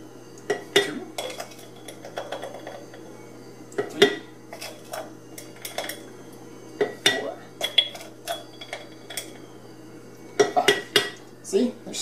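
Metal scoop clinking and scraping as ground coffee is measured into a glass French press, a string of sharp clatters and taps spread irregularly throughout, close and fairly loud.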